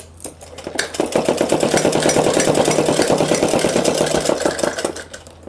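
A sewing machine stitches suit fabric in a rapid, even mechanical chatter. The run lasts about four seconds, loud and close, then stops, and no one talks over it.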